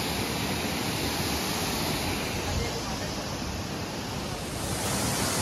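Kalmandavi waterfall near Jawhar, Maharashtra, rushing water as a loud, steady broadband roar that fills the whole scene without a break.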